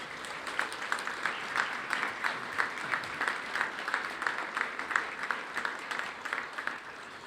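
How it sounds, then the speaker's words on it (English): An audience at the 2025 Borders College graduation ceremony applauding, steady moderate crowd clapping with a rhythmic pulse, continuing evenly throughout. "Let's give them a big round of applause, please."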